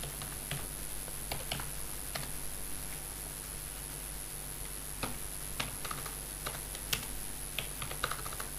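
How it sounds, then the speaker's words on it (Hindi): Keys clicking on a computer keyboard as shortcut combinations are pressed, sparse close taps and small bursts spread across the stretch over a constant high electronic whine, no talking. "कीबोर्ड से अल्ट और इक्वल टू को प्रेस कर रहा हूँ"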